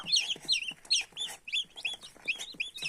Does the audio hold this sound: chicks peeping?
yes